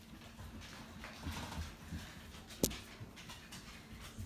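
A puppy moves and pants quietly nearby, with soft shuffling and one sharp knock partway through; no clear barking.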